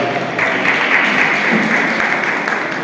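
A crowd claps steadily at a prize-giving ceremony for Nadiad Rana community students, producing a dense, even wash of applause that holds at full strength for about three seconds with no talk over it.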